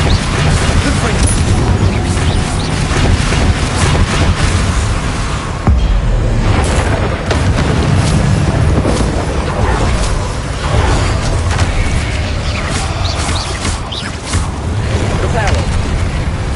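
Confringo blast spells from a Hogwarts video game erupt as dense, booming explosions layered over constant roaring effects and game music, loud and continuous throughout, with a brief dip midway.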